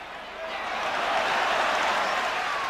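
Football crowd at a Tottenham Hotspur match breaking into applause, a broad wash of clapping and cheering that swells over the first second and holds steady, with commentary voices faintly mixed in.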